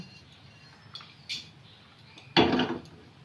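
Whole cumin seeds, freshly fried, are tipped out of a cooking pan in a home kitchen: a few faint clinks, then one brief, louder rattling scrape as they pour out, with no talking.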